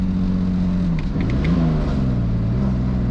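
A turbocharged BMW E46 engine drones loudly from inside the cabin, its pitch rising and dipping as it accelerates, with a few faint high whistles.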